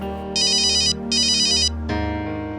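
A phone ringtone sounds loud and close in two bright, warbling bursts separated by a short gap, then shifts into a steadier tone, with no voices over it.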